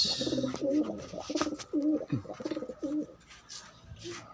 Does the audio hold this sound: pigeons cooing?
yes